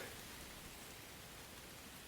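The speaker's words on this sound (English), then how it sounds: "It's starting to rain a little bit." Light rain begins falling on a hiking trail, a faint, even hiss of fine drops that stays steady and distant-sounding throughout, with no talking.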